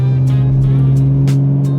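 A car converted by Litchfield Motors burbles loudly under a steady exhaust drone, with sharp crackles and pops from the exhaust on downshift at close range.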